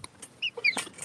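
Chickens in a coop give short, scattered clucks and a few higher squawks, close by and fairly quiet, with brief gaps between calls.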